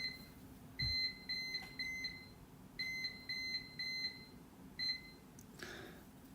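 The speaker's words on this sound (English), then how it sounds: "That's my Davis weather station alarming." A Davis weather station wind alarm beeps in a quick repeating pattern of bursts, faint and steady, during a storm with strong winds, over low background noise.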